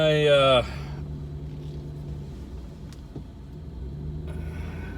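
Car interior while driving home, with a low steady engine and road rumble running beneath a short burst of speech at the start.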